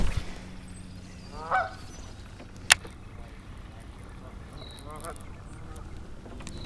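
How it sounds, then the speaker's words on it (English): Two short bursts of honking from a group of 17 geese a few seconds apart, fairly distant over quiet outdoor background, with one sharp click between them. "These geese are frisky, kind of being jerks."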